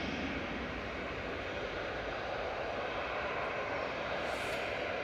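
TUI Boeing 737-800 departing Manchester Airport for Geneva, a dense continuous jet roar at steady level, fairly close, with no talk over it.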